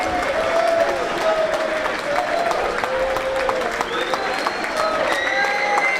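Football crowd at a non-league play-off final, Scarborough against Warrington, applauding in a dense, sustained wash of clapping with a whistle-like tone drifting through, fairly close and continuous.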